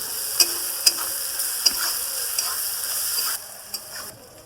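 Tomato, turmeric and cumin paste frying in a pan for a soybean and potato curry, a soft steady sizzle broken by several sharp clicks of a spoon stirring against the pan, with no talking.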